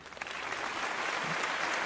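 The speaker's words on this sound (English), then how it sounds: "I think that deserves a round of applause." Audience applause closes a virtual inventors' talent-show event, a steady wash of clapping that holds at an even level throughout this brief moment.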